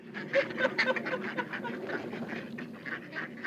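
Several ducks quack in a busy, overlapping chatter at close range, with irregular bursts throughout and a faint murmur of background noise.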